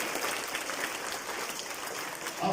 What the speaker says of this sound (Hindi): तो अपने लिए जोरदार तालियां बजाओ पहले तो।